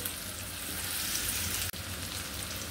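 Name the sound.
onions frying in a pan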